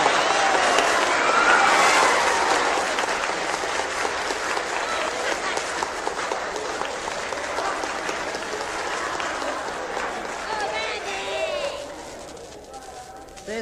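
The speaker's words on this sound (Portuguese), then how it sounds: "Uma salva de palmas para Barnabé!" An audience applauds a comedian at a 1966 Brazilian comedy show, with dense sustained clapping and crowd noise that swells loud early, then gradually thins and fades toward the end, with voices mixed in.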